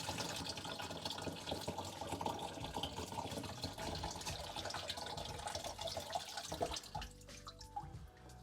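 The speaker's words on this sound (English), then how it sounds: "we're gonna go ahead and drain down this P-trap. And you'll see that the level of the sink starts to drop with us doing this." Water draining from a loosened sink P-trap nut into a bucket, a steady close splashing and trickling stream that runs continuously and alone, tapering into softer drips near the end.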